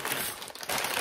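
Packing paper crinkled and crumpled while being pulled out of a subscription unboxing box, a close, continuous rustling lasting about a second with no speech.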